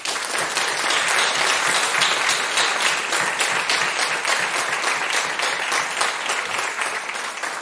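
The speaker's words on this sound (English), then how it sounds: "I would love for you each to give them a round of applause." Sustained applause from a church congregation honoring veterans at a Methodist service, dense and steady clapping filling the room for several seconds with no break.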